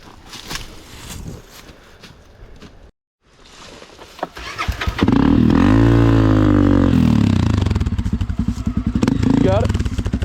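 A dirt bike engine runs loudly beside a creek, rising sharply after a brief pause and holding a strong, steady roar with some revving, while voices talk under it.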